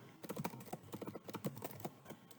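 Typing on a computer keyboard during a programming demo, with a quick run of crisp, close key clicks in an uneven rhythm and no talking.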